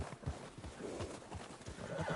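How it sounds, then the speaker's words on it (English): Horses whinny and neigh amid the clopping of hooves in the Red Dead Redemption 2 video game, several calls rising over steady movement noise with no speech. "We should leave the horses."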